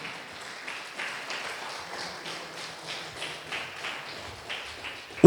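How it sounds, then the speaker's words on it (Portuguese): Church congregation applauding on their feet during an Easter service, a soft, fairly distant patter of many hands that holds steady for several seconds in a reverberant room. "vamos dar para o Senhor Jesus, que é a nossa Páscoa, uma linda salva de palmas"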